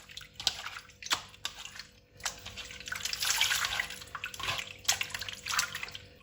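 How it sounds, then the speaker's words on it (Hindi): Salted chicken pieces are rinsed under running kitchen water, with a steady splashing flow, intermittent drips and handling sounds close by, no voices. "तो इसको नमक लगा के हम अच्छी तरह धो लेंगे।"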